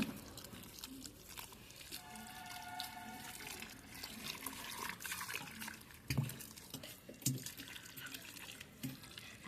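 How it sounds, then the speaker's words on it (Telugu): Water is poured onto dry garden soil to wet it before planting, a soft, faint gurgle and splash that runs on for several seconds. "ఇట్లా నీళ్ళు పోసుకోవాలి"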